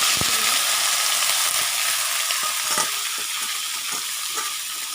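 Chopped beans, potato and eggplant for a bhaji sizzle steadily in a hot pan, a loud, continuous crackling hiss with a few faint clicks of stirring, close and with no talking.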